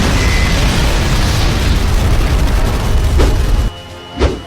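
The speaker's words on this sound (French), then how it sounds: "Explosion!" A loud, sustained explosion roars with dense rumbling debris for several seconds, then cuts sharply to quieter air with a final short boom near the end.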